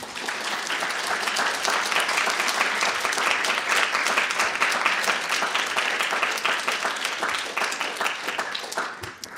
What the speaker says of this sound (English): Another round of applause for our readers, Jarita Davis, Camille Rankin, E. Ethelbert